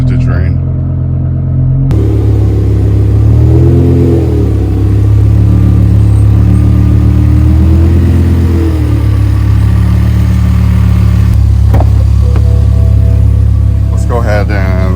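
A 2007-2010 BMW E63/E64 M6 engine idles steadily while warming its oil before an oil change, a close, even rumble that holds throughout with a few faint shifts in pitch. There is no talk over it.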